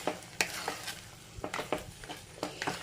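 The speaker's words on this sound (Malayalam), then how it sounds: "ഒന്നിളക്കി കൊടുക്കാം." Ghee payasam being stirred in a pan after a spoonful of ghee is added: quiet, close scraping strokes and soft clinks of the spoon recurring every half second or so over a faint sizzle, with no voices.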